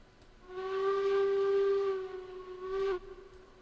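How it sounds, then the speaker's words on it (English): In RailRoads Online, the Eureka steam locomotive's whistle, still coming up to pressure, gives a dull chime-like toot lasting about two and a half seconds. A shorter, softer blip follows, heard close with no speech over it. "Little dull version of the whistle there."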